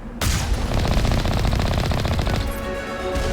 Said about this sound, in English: How dare you fire missiles at me at a time like this?